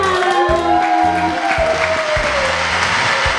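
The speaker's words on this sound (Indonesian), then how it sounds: "Tepuk tangan semuanya" Children of an HKBP Jatinegara Sunday school applaud in a steady, loud wash of clapping, with a voice and music tones running over the dense applause throughout.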